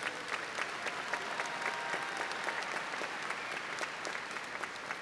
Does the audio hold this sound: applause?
yes